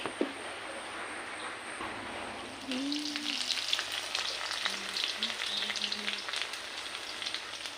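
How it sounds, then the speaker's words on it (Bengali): Panch phoron spices hit hot oil in a wok and crackle, and a close, steady sizzle swells up and holds for several seconds with no talking. "পাঁচফোড়ন দিয়ে দিচ্ছি।"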